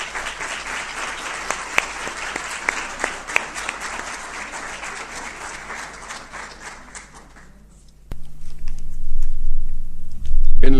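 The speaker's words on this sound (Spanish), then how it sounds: "Lo recibimos con un fuerte aplauso" An audience welcomes a lecturer on the May Revolution with sustained applause, dense clapping that fades out after about eight seconds, followed by low room noise and a few faint bumps.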